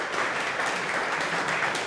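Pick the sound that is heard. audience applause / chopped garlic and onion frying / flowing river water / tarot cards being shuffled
audience applause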